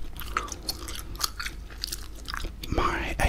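Close, wet chewing of gum with soft smacks and crunchy bites in an irregular rhythm, recorded intimately in an ASMR style, with a voice speaking faintly at times.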